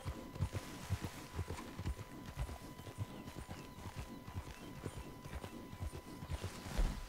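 Horse hoofbeats in a video game, a busy, steady clip-clop rhythm running throughout, fairly close and loud, with occasional thuds and no talking.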